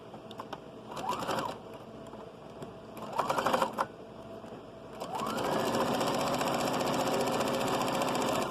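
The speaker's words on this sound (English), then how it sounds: "So we're going to sew the top half of the sleeve." A sewing machine stitches the top half of a child's shrug sleeve, starting in two short runs with pauses, then settling into a longer continuous whirring stitch at moderate volume.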